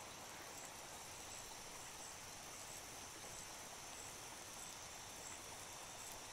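Steady, faint rain hisses evenly in a PlayStation 5 game, a continuous wash of drizzle with no breaks or other sounds over it.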